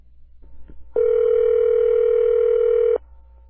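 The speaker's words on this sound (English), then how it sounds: "let's call Monkey Phone Matt." Steady telephone dial tone held for about two seconds before a call is placed, loud and clean, starting and stopping abruptly with faint room noise around it.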